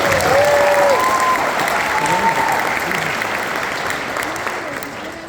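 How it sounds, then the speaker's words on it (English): Audience applause at a middle school 6th grade band spring concert, a dense steady wash of clapping from a full room that tapers off gradually toward the end, with no talk over it. "Let's give them one more round of applause."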